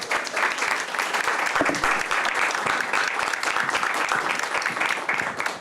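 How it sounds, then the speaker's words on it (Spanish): Audience at the CAPER Show 2024 conference applauding the composer of a symphony orchestra's first album, a full, steady round of clapping from many people, loud and close for several seconds. "un aplauso, que aquí está la compositora"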